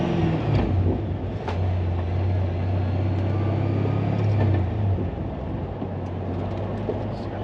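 A Pontiac GTO engine rumbles continuously as the car drives slowly around a storage unit, with a deep, loud exhaust note that swells for a few seconds before settling back.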